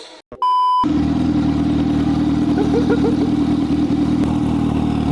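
After a short beep, a modified Yamaha R15 motorcycle engine starts and idles loudly with a steady, throbbing aftermarket exhaust rumble, close up.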